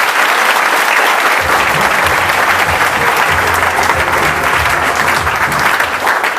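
Loud, sustained applause from a seated audience at a talk, steady dense clapping throughout with no speech on top.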